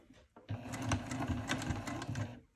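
Sewing machine stitching slowly through a bulky clutch wallet, a close, steady mechanical whirr with rhythmic needle clatter for about two seconds, starting after a brief pause.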